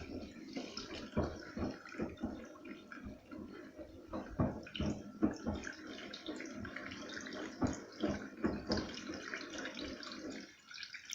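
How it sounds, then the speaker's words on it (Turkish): Laundry perfume is poured into a washing machine before a wash of machine-washable rugs, a close liquid pouring and splashing with irregular clinks and handling knocks, steady and fairly soft throughout. "Şimdi geçelim yıkama parfümünü eklemeye. Baştan ekliyorum."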